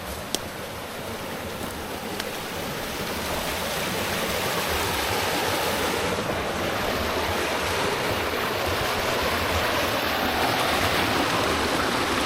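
Steady broadband rush of a flowing gold creek, continuous and fairly close, holding an even level throughout with no voices.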